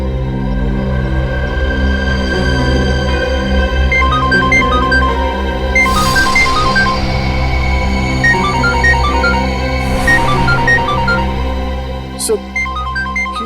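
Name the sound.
phone ringing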